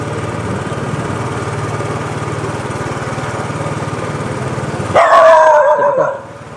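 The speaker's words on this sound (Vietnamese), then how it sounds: "Con chó này làm cú hồn thiệt." A black dog at a market in Saigon bursts out barking close by, a loud cluster of barks over a steady motor hum.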